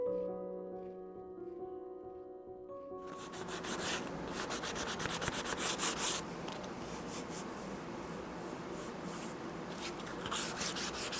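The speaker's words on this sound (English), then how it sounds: "you don't want to sand it too far because you lose all that beautiful patina" Reclaimed wood is sanded by hand with steady, rhythmic rasping strokes that start after a quiet, humming opening and carry on close and fairly loud to the end, with no talking.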